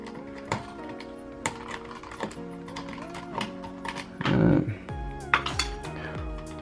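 City skyline rake lock pick rocked back and forth inside a pin tumbler lock, giving a run of small metallic clicks and light scraping taps close up, with a few sharper clinks along the way.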